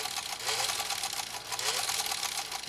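A Singer 66-16 sewing machine stitches through three layers of heavy-grade denim, giving a continuous close mechanical whir with rapid rhythmic needle chatter.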